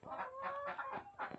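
Chickens kept in a coop alongside ducks give a few short, faint, tonal clucks in quick succession, with no talk.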